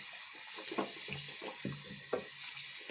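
Hands are rinsed under a running tap in a sink, a steady close stream of water with soft splashing shifts as the hands move through the flow, no talking.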